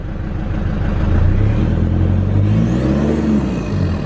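A Toyota Hilux engine fitted with a budget stainless snorkel revs up from idle, a steady close rumble that rises and holds with a whirring, sucking intake tone before easing back.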